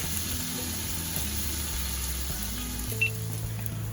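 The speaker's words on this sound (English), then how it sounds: "we're going to cook that until the bacon is crispy" Bacon sizzling and frying in a pan as the base for a honey chicken corn chowder, a steady close crackle with a faint clink near the end and no talk.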